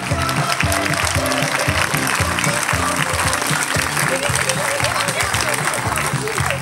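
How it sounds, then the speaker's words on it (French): An audience at a hypnosis show claps steadily while loud rhythmic music with a heavy beat plays over the applause throughout. "Et on les applaudit, s'il vous plaît."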